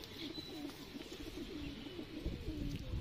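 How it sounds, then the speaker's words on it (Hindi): An old pigeon coos repeatedly in low, rolling phrases, fairly near, with faint background noise and no talk. "ये इनका पुराना कबूतर है, काफ़ी पुराना कबूतर है ये।"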